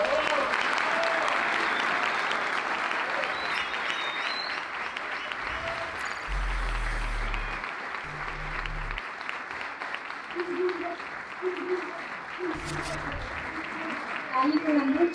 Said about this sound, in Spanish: Demos un fuerte aplauso a los investigadores Martín Rodríguez